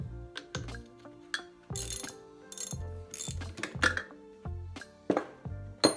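A ratchet socket wrench works on a bolt of a scrap-yard parts engine, giving close, irregular bursts of clicking strokes with metallic clinks between them.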